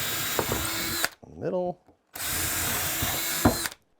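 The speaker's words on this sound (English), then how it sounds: "But I'm going to pre-drill this to make it easier." A power drill pre-drills holes in wood for construction screws while building an attic stair insulation box, two loud whirring bursts close by separated by a short gap in which a person speaks briefly.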